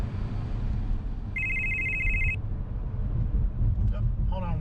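An incoming call rings inside a 2021 Porsche Macan SUV, a bright electronic tone held for about a second over the low rumble of the car, followed by faint trailing electronic sounds.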